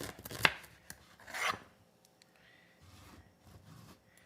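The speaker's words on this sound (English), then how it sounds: "Cut these ends off." A knife slicing the ends off carrots on a cutting board, two crisp chops close together followed by faint soft handling noises.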